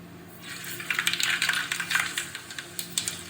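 Mustard seeds hit hot coconut oil in a heated uruli cooking pot and splutter, a rapid burst of sharp popping crackles over a low steady hiss, close and fairly loud, no talking.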